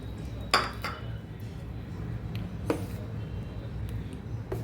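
Water being stirred into rice paste in a vessel for vadiyalu, heard as a few sharp utensil clinks and knocks against the container over a quiet background.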